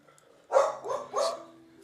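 A pet dog lets out three quick barks close by, the first sharpest, then a softer whine trailing into quiet indoors.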